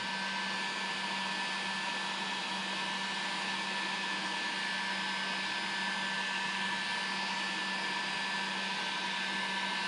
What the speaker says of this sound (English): Get the old heat gun action out here.